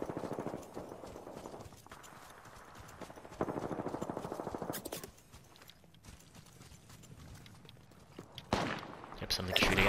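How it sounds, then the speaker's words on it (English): Gunfire rings out in the battle-royale shooter Apex Legends, with distant shots among rapid, ticking footsteps and other game effects. The mix is dense and busy, and a louder burst comes near the end. "Something shooting at me."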